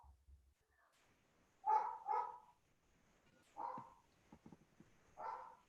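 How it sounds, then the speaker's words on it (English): Dogs bark in a home during an online meeting, with about four sharp, fairly close barks spaced out over a quiet background. "my dogs are barking"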